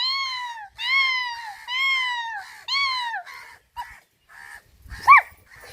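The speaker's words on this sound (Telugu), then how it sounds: "ఇలా కాకులు గోల ఎక్కువైంది అనుకుంటా" Young crows on a house rooftop caw repeatedly, close and loud: drawn-out, descending harsh calls in a series, then shorter squawks.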